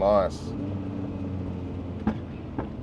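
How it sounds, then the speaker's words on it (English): Two sharp backfire pops crack out about half a second apart over the steady low drone of a 550 hp 3SGTE-engined Toyota RAV4 running a Haltech Elite 750 ECU, heard up close after a brief voice-like tone at the start. "Oh, little backfires."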